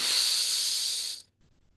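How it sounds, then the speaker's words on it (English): Children drawing in a deep breath together during a mindfulness exercise, a single loud airy hiss lasting just over a second before cutting off into near silence. "Let's all take a deep breath in."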